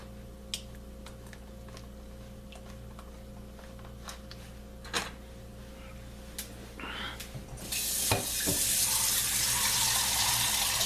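Almond milk poured into a bowl of cooked whole oatmeal, a soft liquid rush that rises near the end and swells to a steady pour, over faint ticks and a low background hum.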